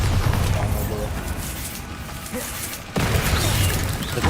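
A Bombarda spell explodes in the Hogwarts Legacy video game on maximum difficulty: dense, rumbling booms amid busy combat noise, with a sharp new burst near the end and a voice in the mix.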